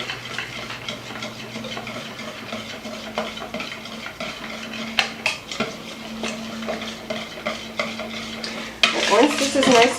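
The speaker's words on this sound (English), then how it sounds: "I am going to just whisk it till it's really smooth." Pumpkin scone batter is whisked in a bowl until smooth, a steady run of wet stirring with quick metal ticks and clinks against the side, close and continuous, growing busier near the end.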